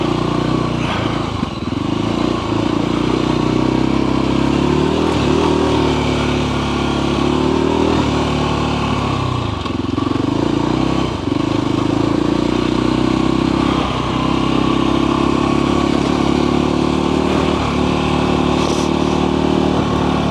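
Voge Rally 300 motorcycle ridden along the edge of a bank toward loose sand, its single-cylinder engine droning loud and steady with rising and falling revs, close up and continuous, with no talking.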